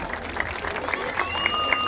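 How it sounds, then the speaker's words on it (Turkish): Brief burst of audience clapping for a Georgian dance team at an outdoor folk dance festival in Didim, Turkey, with a few sharp whistles cutting through the steady applause. "Gürcistan ekibine çok kuvvetli bir alkış rica ediyorum sizlerden lütfen"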